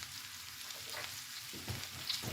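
Cabbage sautés in a pan with a faint, soft sizzle and light crackle, heard briefly and alone.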